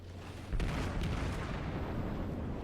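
Warship guns fire in the naval combat video game World of Warships, with the battleship Tirpitz in play: one sudden, heavy boom, followed by a sustained rumbling roar.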